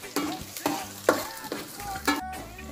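Onion and garlic sauté in a pan, a close, moderate sizzle punctuated by about five distinct scraping stirs at roughly half-second intervals, with no one talking.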